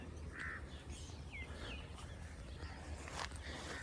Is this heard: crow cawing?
yes